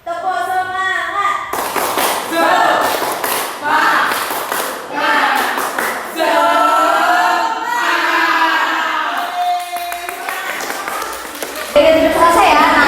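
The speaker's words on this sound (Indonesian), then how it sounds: "Tepuk semangat." A class of children performs the rhythmic 'tepuk semangat' clap, patterned bursts of hand claps alternating with chanted voices, loud and close, with the group's voices and a teacher talking between the clapping rounds.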